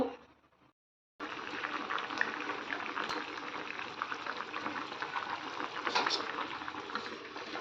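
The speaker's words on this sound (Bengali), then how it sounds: "দেখুন ঝোল পুরো সব দিয়ে দিয়েছি, এবার জাস্ট ফুটবে" Fish curry broth bubbles in a pot on the stove before koi fish are added. After a brief silent gap, a steady close hiss of boiling and bubbling liquid runs continuously.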